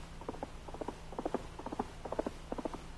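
Horse hooves gallop in a radio drama sound effect: quick, even three-beat clip-clop thuds repeat steadily over soft background hiss, with no voices.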